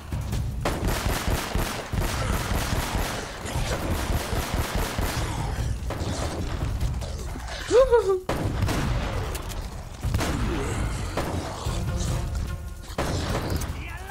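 Kalashnikov rifle fire in the video game Uncharted: Drake's Fortune, dense bursts of automatic gunfire and impacts running throughout, loud and busy, with a voice talking now and then.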